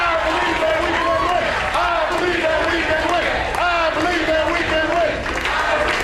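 White House staffers cheer while watching a soccer game: a loud, continuous crowd roar of shouting and chanting voices that fills the whole stretch.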